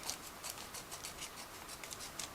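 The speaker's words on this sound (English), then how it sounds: "I am cutting through the plastic bag" Scissors or a blade cutting through a plastic bag around model kit parts, a faint series of quick crisp snips and rustles spaced about every quarter second, close and quiet.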